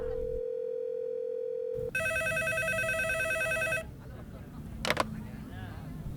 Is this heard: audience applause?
no